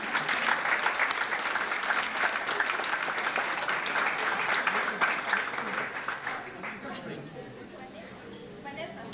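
Dense, steady applause from an audience at a school ceremony honouring a top student, loud and continuous for most of the stretch before thinning slightly toward the end.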